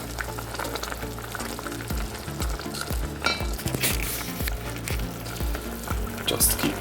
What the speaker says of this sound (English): Just keep stirring, stirring, stirring. We want to make sure these little stock cubes are dissolved.